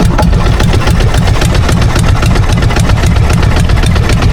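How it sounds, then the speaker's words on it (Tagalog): A boat engine runs at a steady idle at a riverside boat landing in Bulungan, Philippines, with a continuous loud low rumble and rapid regular knocking pulses throughout, no voices. "yung magpapaandar ng makina"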